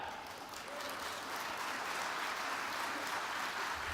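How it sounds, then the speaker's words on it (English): Audience at a leadership summit panel claps after the Pledge of Allegiance: a soft, even wash of many hands from a distance, steady for the whole stretch. "Yeah, clap."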